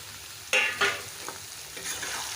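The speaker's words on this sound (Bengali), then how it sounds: "এখন আলুটা প্রায় ভাজা হয়ে গেছে এর মধ্যে আমি এখন সয়াবিনটাকেও ভেজে নেব" Potato pieces and soybean chunks fry in hot oil, a soft sizzle broken by two sharp scraping stirs near the start and lighter stirring after, close and fairly quiet, with no talk.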